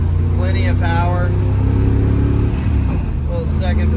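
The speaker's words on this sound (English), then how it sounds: "Little second to third shift there." A 1966 Shelby GT350 with a four-speed manual pulls through a second-to-third gear shift, its engine droning loud and steady close by while someone talks over it.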